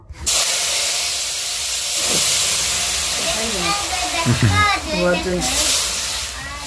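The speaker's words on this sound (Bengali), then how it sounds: "এখন ডালটা সম্বার দিয়ে নিচ্ছি শুকনো লঙ্কা আর পেঁয়াজ আর হচ্ছে পাঁচফোড়ন দিয়ে" Dal being tempered in hot oil with dried red chillies, onion and panch phoron in a small new kitchen, giving a loud steady hiss and sizzle throughout while a person talks over it.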